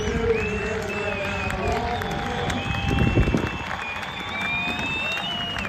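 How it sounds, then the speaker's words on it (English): A crowd at a JUCO baseball tournament roars and cheers in a continuous, fairly loud wash of voices and clapping, with people talking nearby over it. "we got to hear the roar of the crowd"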